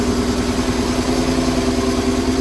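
An air-cooled BMW R850R motorcycle engine idles after a cold start, with a steady, loud, close-up low throb and a regular pulsing rhythm.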